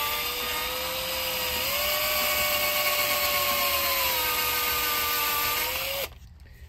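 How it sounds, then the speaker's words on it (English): A high-pitched drill whines steadily, boring a small hole into a metal axe wedge, for about six seconds, close and loud, then cuts off abruptly. "Now here we'll drill a small hole into the wedge itself."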